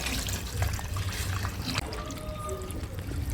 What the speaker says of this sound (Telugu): వాటర్ కూడా యాడ్ చేసేస్తాం